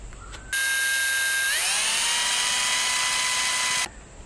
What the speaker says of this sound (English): I'm calling that a pilot hole, and I'm not going to drill any further than that